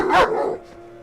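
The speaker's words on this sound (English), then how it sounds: "a large dog stood up and barked with fierce aggression" A large dog gives one loud, fierce bark nearby on a quiet spring night outside a house, a short burst trailing off into stillness.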